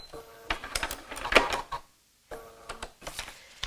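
Sewing machine stitching paper-pieced fabric, running in two short bursts of rapid mechanical clatter with a brief pause between them, as for a locking stitch and reverse.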